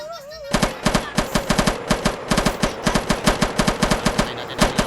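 Rapid automatic gunfire in a Minecraft game, a loud, steady burst of repeated shots in quick rhythmic succession, preceded by a brief warbling tone.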